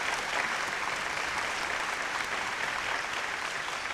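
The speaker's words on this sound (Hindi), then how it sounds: "जोरदार तालियां" Loud, dense applause from a studio audience on a Hindi singing show, a continuous wash of clapping that stays full and steady from start to finish.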